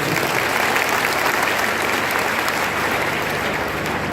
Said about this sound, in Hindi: एक बार फिर से तुम चलिए जोरदार तालियां बजाएंगे